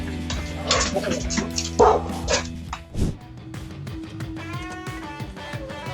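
A police K9 dog barks and yips in short loud bursts during a street takedown, with a whimper and shouting voices mixed in around it.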